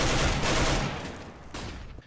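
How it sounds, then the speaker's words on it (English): AK rifle fire from the Counter-Strike: Global Offensive beta, using sounds carried over from Counter-Strike: Source: loud, close gunshots with a sharp burst near the start and another crack later, each trailing off into a short echoing tail. "Originally in the CSGO beta, the AK, among many of the sounds from CS Source,"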